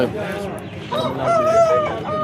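Tamil Nadu breed hens and roosters at a Saturday hen market in Mydukur, with close clucking and honking fowl calls rising over a busy crowd backdrop.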